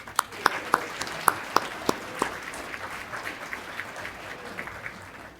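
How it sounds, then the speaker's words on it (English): Scattered hands clap for the emcee at an awards evening, with a few sharp, distinct claps over a softer, steady patter that thins toward the end. "A round of applause for Frank, our MC tonight."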